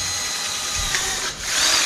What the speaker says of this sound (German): Also die zwei Löcher bohren.